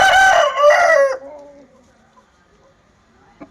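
A rooster at a poultry market crows once loudly and close, its call falling away within about a second, followed by faint background noises and a brief cluck.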